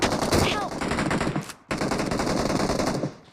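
Rapid automatic gunfire rattles out in a mobile battle royale match: two dense, loud bursts of machine-gun fire separated by a short gap, with faint talk in the background.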